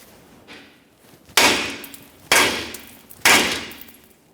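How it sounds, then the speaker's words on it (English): Hammer tapping a tie rod end off the steering knuckle of a 2004-2008 Ford F-150, three loud metallic strikes about a second apart after two fainter taps. "If you have a specialty tool, you can use that. Otherwise, just use a hammer along this area."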